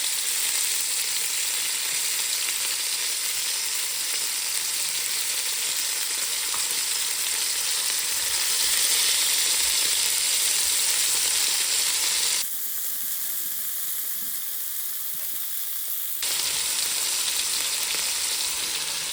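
Chuck steak bites sear in a hot pan with a loud, constant sizzle and crackle that runs without pause, dipping briefly near the end before returning.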